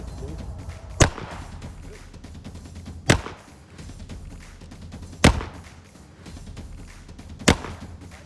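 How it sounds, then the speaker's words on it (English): Four gunshots are fired at targets at a shooting range, evenly spaced about two seconds apart, each a sharp loud crack over a quiet background rumble. "Shoot that 4 in the center target off to the right."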